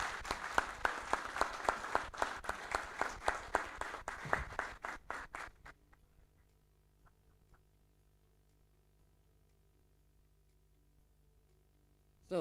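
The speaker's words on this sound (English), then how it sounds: "Let's give them another warm round of applause." A hall audience applauds the heads of department at the relaunch of Kemena Pasific Hospital, with steady dense clapping for about five seconds that then stops abruptly into near silence.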